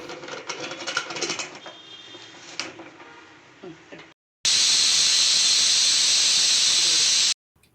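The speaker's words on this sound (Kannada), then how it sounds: "ಕುಕ್ಕರ್ ಮುಚ್ಚುಳಕ್ಕನ್ನ ಕ್ಲೋಸ್ ಮಾಡಿ ಮೂರು ವಿಷಲ್ ಕೂಗಿಸ್ಕೊತಾ ಇದ್ದೀನಿ" A pressure cooker holding chickpea gojju with grated coconut lets off a loud, sustained rush of hissing steam for about three seconds, after quieter kitchen clatter and faint voices.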